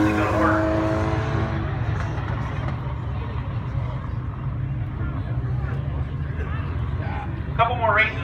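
A damaged stock car at the Can-Am Speedway rumbles as it pulls away, a steady low engine drone under continuous commentary.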